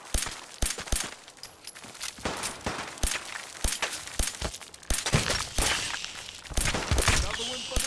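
Gunfire in Fallout 4, rapid sharp shots in uneven bursts throughout, loud and close, with impacts and clatter between them and a voice briefly heard in the mix.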